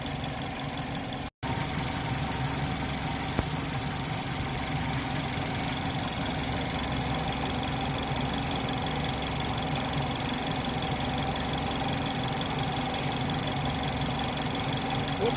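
A Chevy HHR engine idles with a steady mid-pitched hum and faint rhythmic ticking, constant and close, after a short clunk near the start, with no talking.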